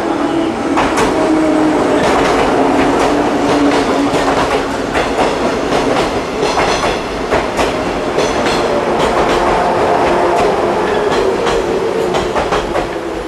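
A six-car train rolls into a station platform in Japan up close, its loud rumble and rhythmic wheel clatter continuing without a break.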